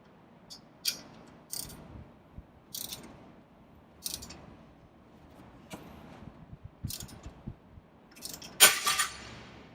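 A puller works on a Porsche 996 tie rod end, giving a series of separate metallic clicks and ticks spaced a second or so apart, then a sharper, louder pop near the end as the joint breaks free.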